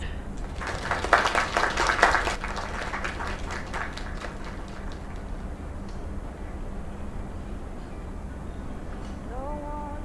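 A small gathering bursts into a short round of applause, lively for about two seconds before fading into a steady background murmur of the room.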